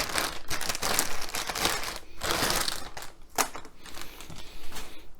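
Scissors cut through the sealed plastic packaging of an MSI power supply cable, producing close crinkling and crunchy snipping in uneven bursts, with no talking.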